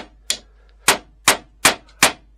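A hammer strikes tongue-and-groove boards during a bedroom build, giving five sharp, ringing metallic blows at an uneven, deliberate pace, close and loud, with quiet between each strike.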